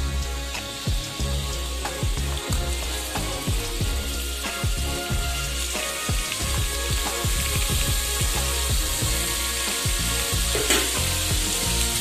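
Chopped onion, tomato, garlic and green chilli with coriander and ginger sizzle loudly in a pan for brinjal bharta, a steady close frying hiss broken by frequent stirring clicks and scrapes.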